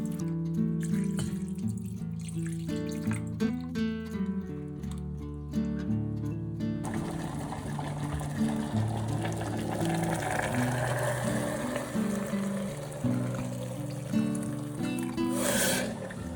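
Lukewarm water runs into a bowl to soak dried rice noodles, a steady splashing pour heard over gentle background music, the flow continuing to the end with no talking.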